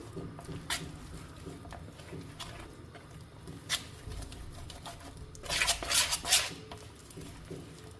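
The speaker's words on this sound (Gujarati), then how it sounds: "અને હવે આપણે એને એકદમ સારી રીતે હલાવી અને મિક્સ કરી લેશું." Gram flour batter with soda and lemon being stirred and mixed in a bowl, giving quiet scraping and clinking of a utensil against the vessel, with a brief louder burst of clatter near the end.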